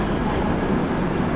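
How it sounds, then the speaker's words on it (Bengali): A passenger train pulling out of a station on a Kolkata to Malda journey, heard from inside the coach as a steady, loud low rumble of rolling wheels and car noise, continuous throughout with no talk. "ট্রেন ছেড়ে দিয়েছে একদম রাইট টাইমে"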